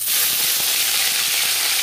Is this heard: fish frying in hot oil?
yes